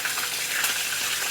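Oxtail browning in hot oil, a close, steady sizzle with soft crackles and no talking.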